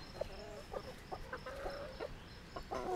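Backyard chickens cluck in short, quick bursts close by, several hens overlapping in a busy, chattering rhythm over a faint outdoor background.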